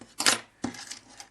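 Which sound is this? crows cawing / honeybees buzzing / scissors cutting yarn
scissors cutting yarn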